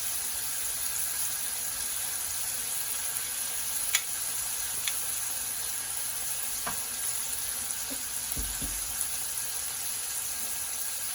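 Bacon frying on a Blackstone electric griddle makes a soft, even sizzle with a few faint ticks and a brief low knock near the end.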